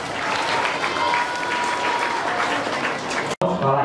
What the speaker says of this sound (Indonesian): Tepuk tangan untuk ketiga pasangan calon.